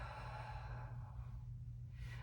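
A single long, breathy exhale during Pilates breathing practice, soft and close, fading out with a faint hiss at the end and no talking.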